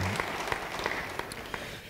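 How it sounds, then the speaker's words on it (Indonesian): A church congregation claps in steady, dense applause throughout, loud and continuous with individual claps standing out. "Yang percaya beri tepuk tangan bagi dia."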